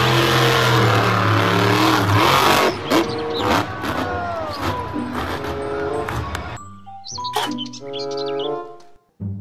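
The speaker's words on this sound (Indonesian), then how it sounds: "Mobil truk monster." A toy monster truck makes a loud revving engine roar that drops away after a couple of seconds into rattling clicks and chirpy electronic tones, then ends with a short burst of sound effects.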